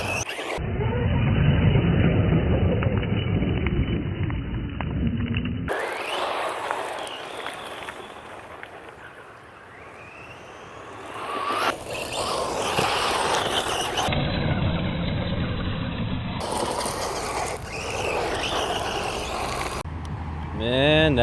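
A DHK Optimus XL RC buggy races and brakes, its motor whining through repeated bursts with tire squeals and scrabbling on stops, varying between near and distant across several cuts, with occasional voices in the background.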